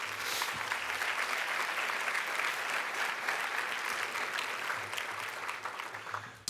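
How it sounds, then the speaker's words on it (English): A large audience applauds city workers at a State of the City address, a dense, steady round of clapping that fills the whole stretch and tapers slightly near the end. "Please give those workers a round of applause."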